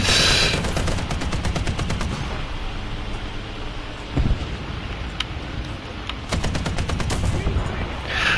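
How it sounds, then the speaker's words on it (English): Sustained gunfire and rapid automatic bursts in a War Thunder battle, loud and close, running the whole stretch with heavier blasts near the middle and end; no voice. "Chris, they're shooting at me, help."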